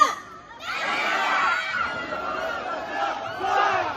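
Men in a concert audience shout together like newly enlisted army privates, a loud, sustained crowd roar of massed voices that swells and holds for several seconds.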